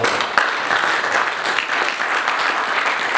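A church congregation claps and applauds continuously, a dense, steady patter of many hands with no break, filling the room at moderate loudness.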